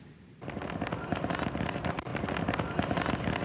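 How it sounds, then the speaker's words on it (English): Fireworks crackle and pop in rapid bursts at a wharf in Sambro, southwestern Nova Scotia, marking the dawn start of lobster fishing season, a fairly distant, steady barrage. "Fireworks signal the start of the day."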